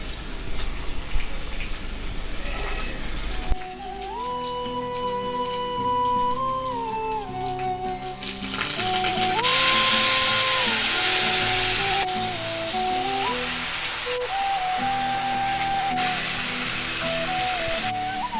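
Mustard seeds, asafoetida and curry leaves sizzle in hot oil on a stovetop, a steady crackling hiss under background music that swells into a brighter, louder burst midway.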